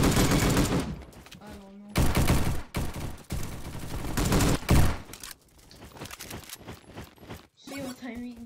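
Gunfire from a gun in the video game Bad Business, in bursts of rapid loud shots with short gaps, heard under a player's talk.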